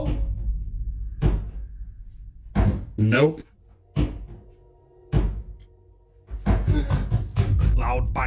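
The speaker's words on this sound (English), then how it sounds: "Loud banging sounds can be heard coming from the stairs leading to the basement." Loud thudding bangs come from basement stairs, a few heavy knocks spaced apart with brief talking between them.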